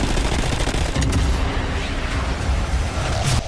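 Sniper gunfire from the video game Sniper Elite Resistance: loud, dense booming shots and heavy impacts, with layered cinematic rumble filling the short stretch almost without a break.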